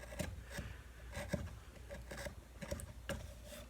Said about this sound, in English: doing inletting or any kind of work with chisels like this